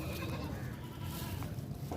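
Goat kid bleating on a Bihar goat farm while suckling milk from its mother, a steady bleat set against continuous loud farmyard noise with no talk over it.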